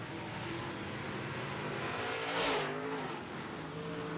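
Late model stock cars roar around an oval track in a closing-laps feature race, a steady engine drone swelling briefly as a car passes close by, then settling back to a distant hum.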